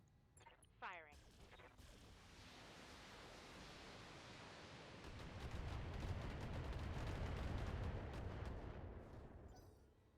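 Mech weapons in Battletech firing a volley at an enemy Orion mech: a brief sharp whine and crack, then a long swelling roar of impacts and rumbling blasts that fades out.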